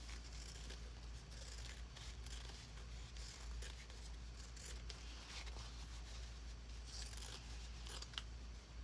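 Scissors snipping through fabric while making a small fabric tag pouch, a run of quiet, close crisp cuts in an irregular rhythm over a low steady hum, with no talking.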